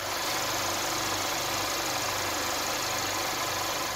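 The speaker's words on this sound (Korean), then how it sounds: "엔진 소리 한번 들려드릴게요." A 2018 Infiniti Q30 idles steadily with its hood open, a smooth, quiet, even engine hum with a low rumble, heard up close with no one speaking.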